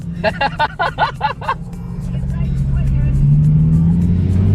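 A car racing past on a road, its engine swelling into a loud, rising roar that builds steadily and then holds. Nearby voices talk over the start before the engine noise takes over.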